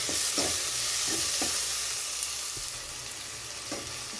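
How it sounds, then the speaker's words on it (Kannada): Chopped tomatoes sizzle in a hot pan with green chillies for a potato palya, a steady hiss broken by a few soft scrapes of stirring. "ಟೊಮೊಟೊ ಹಾಕ್ಕೊಂಡು ಫ್ರೈ ಮಾಡ್ಕೊಳ್ಳೋಣ."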